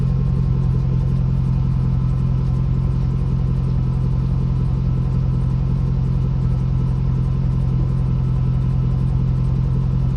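A warmed-up 5.3 LS V8 in a Chevy Tahoe idles steadily, a continuous low engine rumble with an even throb, close and alone with no voices.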